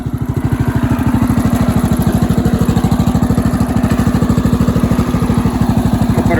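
Power King garden tractor engine pulling a 3,000-pound load of topsoil, running close and loud with a steady, rapid thumping exhaust pulse that holds constant throughout with no talk.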